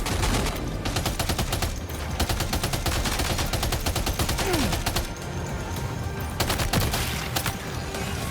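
Rapid heavy machine gun fire from a weapon in Death Stranding 2, dense sustained bursts with brief gaps, loud and close throughout.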